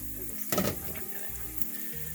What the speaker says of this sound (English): See how it's all sizzling?